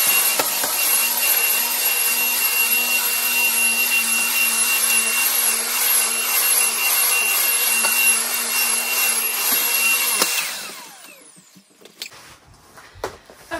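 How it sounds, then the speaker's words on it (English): A vacuum cleaner runs over carpet before faux wood panels are laid, a loud, steady close-up roar lasting about ten seconds and then cutting off, leaving faint handling noises. "I'm gonna vacuum first"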